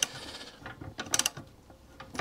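The mechanism of a vintage 1930s Ransomes Atlas Mk1 lawnmower is turned by hand during restoration, giving quiet, irregular clicking and ratcheting taps close up.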